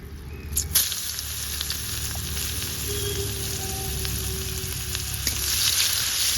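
Chopped onions fry in hot oil with bay leaf and black cumin, giving a steady close sizzle with a few clinks of stirring and a rising hiss toward the end.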